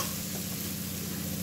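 Vegetables fried with spices sizzle steadily in a pan as water is added, a continuous close hiss and crackle with no voices.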